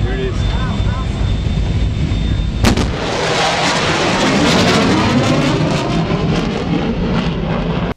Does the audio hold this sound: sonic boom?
yes